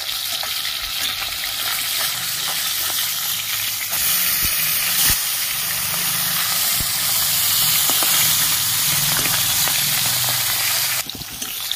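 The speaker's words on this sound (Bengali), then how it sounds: "মাছ ভাজা হয়ে গেছে, আমি এবার তুলে দিচ্ছি।" Fish fries in hot oil in a pan, a loud, dense, constant sizzle and hiss close up, with occasional knocks and scrapes as the pieces are handled, and no voices.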